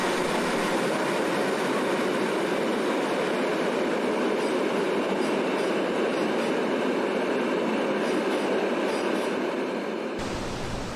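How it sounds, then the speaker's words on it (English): An Onrail freight train hauled by a Ural dual locomotive, class BR159, rumbles past on a bridge in a steady, dense roar of rolling wheels and rail noise, continuous throughout before cutting off abruptly near the end. "A freight train from Onrail with a Ural dual locomotive, class BR159, follows."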